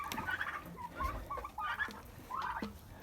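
Domestic turkeys gobble and call repeatedly while feeding on wet mash and potatoes, several birds trading bursts of warbling calls close by against a steady farmyard background.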